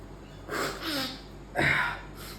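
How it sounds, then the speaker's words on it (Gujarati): Two sharp, breathy sneezes about a second apart from someone with a cold, each a sudden explosive rush of air, up close with no talking. "જબ્બર છીકો આવે છે"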